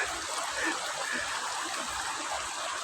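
A river flows at a fishing spot where people are bathing, giving a steady, fairly loud rushing and trickling wash of water that continues without a break and carries no clear talk.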